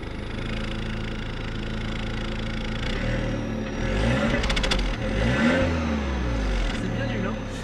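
A car engine revs up and pulls away, the deep mid-pitched roar rising and surging in pulses over a steady rumble, loud and close from inside or beside the vehicle, with people talking over it.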